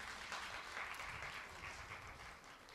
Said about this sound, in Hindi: थोड़ी तालियां तो बजाओ